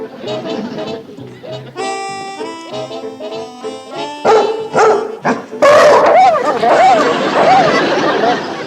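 A man imitates a dog's barking with his voice, giving a run of yips and bow-wow barks, some clipped and some drawn out, close and loud, with other voices around him in a comedy scene.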